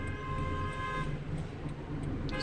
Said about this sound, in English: People honking horns